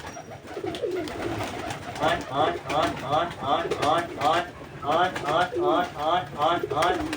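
Pigeons coo on a rooftop in a run of rounded, repeated calls, fairly close and loud, under a voice counting over them.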